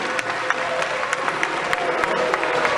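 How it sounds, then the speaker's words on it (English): An audience at an evening event applauds steadily for a distinguished speaker, producing a dense, continuous wash of clapping with a few sharper claps standing out and a faint crowd murmur underneath. "A round of applause for the"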